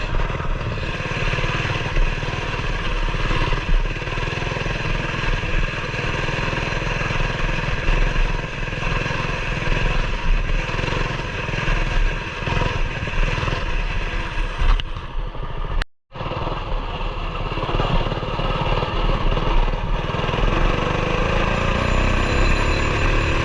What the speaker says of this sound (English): And this mini bike, for some reason, feels louder than my four-wheeler.